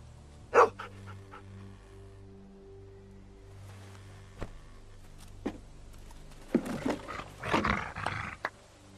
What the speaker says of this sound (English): Noisy dog?